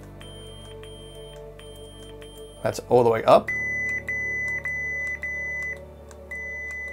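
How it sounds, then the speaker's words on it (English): Someone speaks briefly, then a steady electronic hum from a two-button Obi-Wan Kenobi replica lightsaber continues with a series of short, evenly spaced volume-adjustment beeps whose pitch shifts near the end. "When you hit the top, the beep will change."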